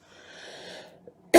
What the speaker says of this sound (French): Ça m'en fait tousser tellement c'est puissant.